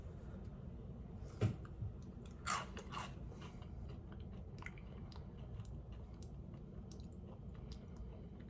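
Red ghost-shaped pieces of Monster Mash cereal bitten and chewed close up, a few quiet crunches early on, then faint chewing over low room noise.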